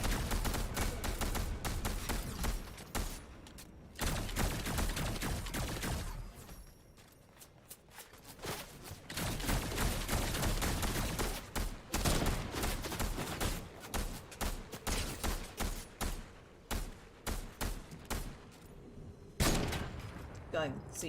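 Rapid bursts of gunfire from Fortnite Zero Build fill the scene, loud repeated volleys with short pauses between clusters, alongside quieter game effects.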